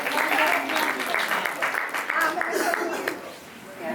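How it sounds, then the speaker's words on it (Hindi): Applause welcoming speakers at a religious gathering in East Delhi, a crowd clapping steadily for about three seconds before fading, with voices mixed into the noise. "सभी जोरदार तालियों से"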